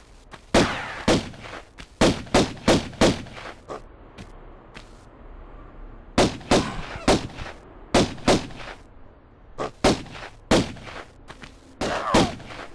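Pistol and shotgun fire in the Tomb Raider video game, Colosseum level: a rapid series of loud, sharp shots in uneven bursts, with short quiet gaps between volleys and no talking.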